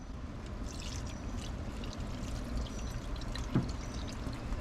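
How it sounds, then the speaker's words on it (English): About a cup of milk pours into smoked macaroni and cheese as a soft, steady, faint trickle that lasts throughout, with no voices. "you can add about a cup's worth of milk"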